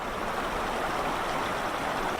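Creek water flowing over rocks and stones at Pebble Creek Campground in Yellowstone, a steady, dense, close rushing wash that holds even and unbroken throughout.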